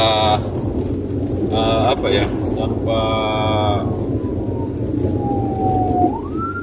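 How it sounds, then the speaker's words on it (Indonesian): An ambulance siren wails in short bursts on a Malaysian road over dense traffic rumble, then slides into a long falling tone as it passes. "kita akan lihat ambulans dia lewat ya guys ya"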